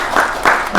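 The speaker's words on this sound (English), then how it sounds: "Let's have a little round of applause for that." An audience at a horror film Q&A screening in Romford gives a short, steady round of applause, with the clapping of many hands swelling in quick pulses.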